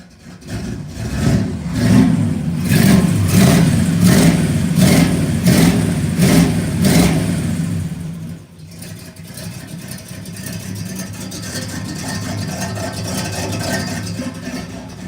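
A 1969 Pontiac LeMans convertible's engine, running rich and in need of a tune-up, revs in a string of rhythmic bursts of throttle for about eight seconds, then drops back to a steady, rough idle close by, with no talk.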